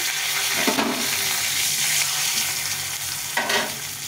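Dry red chilies, cumin seeds and two bay leaves frying in oil, a loud steady hiss of sizzling with a couple of brief stirring scrapes, close up and without voices.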